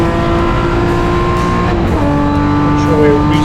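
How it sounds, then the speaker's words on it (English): A BMW race car in a track race series runs loudly with a steady, droning engine note that swells slightly as it passes, while commentary voices talk over it throughout. "Cobus Bowman there in the Pepper Shield BMW."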